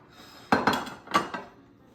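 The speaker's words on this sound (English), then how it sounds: "Okay, so I'm just gonna dish this up now." Utensils clink and scrape against plates while meatloaf is served up, two short clusters of clattering dish sounds, close and moderately loud, with no talking.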